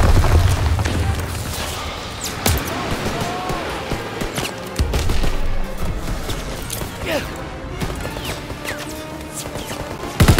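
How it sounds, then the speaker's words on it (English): A grenade blast goes off in Call of Duty WWII at the Rhine, with loud booms and crashing impacts over continuous battle noise, and a voice shouts over the fighting. "Lob it a grenade!"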